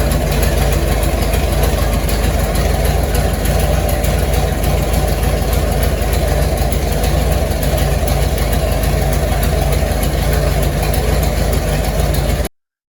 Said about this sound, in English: a short video that I shot while the team was setting up the engine in the dyno and getting ready for the first dyno run